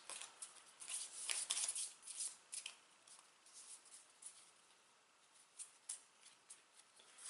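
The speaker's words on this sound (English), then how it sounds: "we're going to shuffle this and then put 4 more cards in to our hand to make for 6" A deck of playing cards is shuffled close up, with quiet, crisp riffling and flicking bursts that are denser early on and then come in sparser clicks. The sound is faint and there is no talk.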